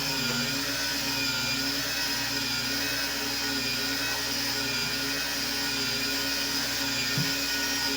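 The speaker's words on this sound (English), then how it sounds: "This is going to grind it pretty fast." A grinder breaking down skin-on apples for homemade apple butter, giving a loud, steady, high-pitched motor whine that runs unbroken throughout, with no talk.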